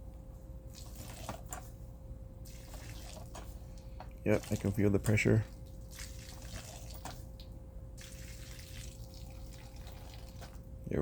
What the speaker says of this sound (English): Get some water in there and test it out.